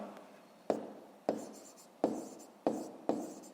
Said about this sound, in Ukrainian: Записуємо в дужках чого грам.